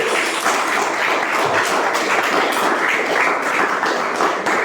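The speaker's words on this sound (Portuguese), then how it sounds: "eu queria que você aplaudisse bem forte a Jesus." Church congregation applauding loudly and steadily, a dense, continuous wash of many hands clapping close by with no break.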